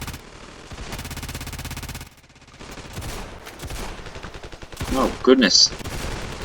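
Rapid bursts of automatic gunfire in the Ravenfield video game come in loud volleys that pause briefly before sharper, closer shots follow, while a voice exclaims briefly over them.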